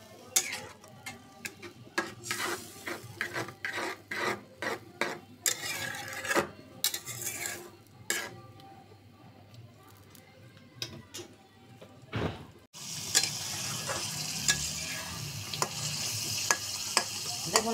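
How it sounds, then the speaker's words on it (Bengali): A spoon scrapes and stirs a spice paste for a Bengali small-fish curry as it fries in oil, close irregular clicks and scrapes over a soft sizzle that swells into a steady, louder hiss toward the end. "এখন আমি মশলাটাকে সুন্দর করে কষিয়ে নেব, মশলা তেল ছেড়ে দেওয়ার আগ পর্যন্ত।"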